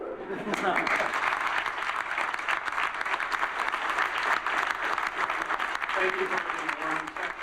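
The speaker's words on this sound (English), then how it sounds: "they all stood up and clapped" A standing audience applauds in a steady, dense, sustained wash of clapping that holds at full strength throughout, with a few voices faintly mixed in near the end.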